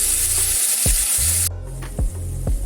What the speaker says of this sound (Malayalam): ഇനി നമ്മൾ അരച്ച് വെച്ച ഈ പേസ്റ്റ് ചേർത്ത് കൊടുക്കാം.